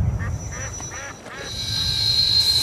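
Birds call on North Brother Island in New York, a few duck-like quacks and squawks rising over steady outdoor background noise, with a faint narrator's voice beneath.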